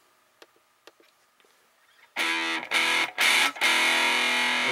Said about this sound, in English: that gives us a distorted sound